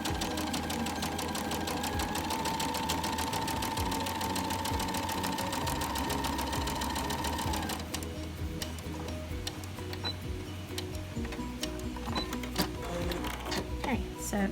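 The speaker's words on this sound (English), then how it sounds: "I'm going to go here and just top stitch along this bottom edge" A sewing machine topstitches along the bottom edge of a fabric piece, running in a fast, steady ticking whir close by for about eight seconds, then stopping, with a person speaking over it throughout.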